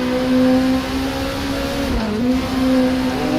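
Nissan Primera race cars in a racing video game on the Automotodrom Grobnik circuit accelerate with a loud, sustained engine whine whose pitch holds, briefly dips, then climbs again. No voices are heard.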